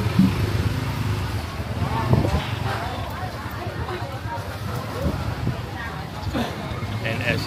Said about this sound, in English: Lots of motorbike going back and forth.